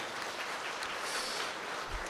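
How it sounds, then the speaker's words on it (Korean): Wedding guests at a hotel ceremony applaud after the marriage declaration, an even, moderately soft patter of clapping that continues steadily throughout. "박수 한번 보내주시죠, 여러분"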